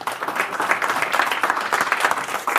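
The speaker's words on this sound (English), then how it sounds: "Let's give them a round of applause" A live audience at a Cashflow 101 game event in Woodland Hills gives dense, steady clapping that runs through the whole short stretch.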